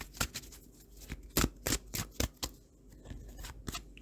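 Oracle cards from a Wisdom of the Oracle deck being shuffled by hand, a run of crisp, close riffling snaps and soft slides in an irregular rhythm with no talking.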